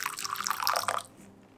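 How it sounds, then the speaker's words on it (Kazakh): Water heated to 85 degrees pours into a measuring cup for making matcha, a close, steady splashing trickle lasting about a second before it cuts off, leaving quiet room tone. "Өлшейтін кружкаға шамамен 100 мл-дай қайнаған су емес, 85 градустағы суды құятын боламыз"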